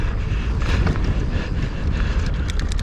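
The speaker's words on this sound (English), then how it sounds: "Geez, super windy up here." Strong wind buffets the microphone during mountain biking on Maraetai trails, a constant loud low rumble and roar with gusty flutter throughout and no speech.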